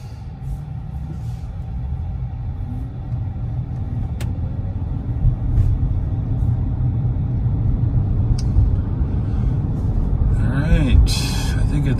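City traffic in downtown Raleigh, North Carolina, heard from inside a moving car: a steady low road rumble and engine drone throughout, with a few brief clicks and a louder swell of passing vehicles near the end.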